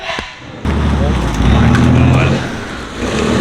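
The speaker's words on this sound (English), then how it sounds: "there goes that stupid idle thing again" Air-cooled Porsche 964 engine idling with a rising and falling surge in revs, a steady low rumble that swells and dips over a few seconds while people talk nearby.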